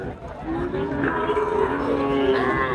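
Cattle low with long, loud moos at a busy livestock market selling bulls, near and sustained, over a background of crowd chatter and voices.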